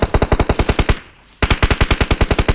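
Automatic gunfire in the mobile shooter game PUBG Mobile comes as two loud, rapid bursts of evenly spaced shots, close and punchy, split by a short gap of near silence.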